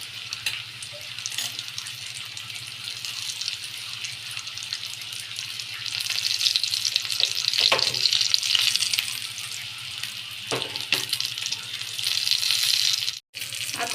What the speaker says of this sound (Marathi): मी आता हे तेल गरम करून घेतलेलं आहे, ह्यात मी मस्त असे छान प्रकारे बांगडे सोडते।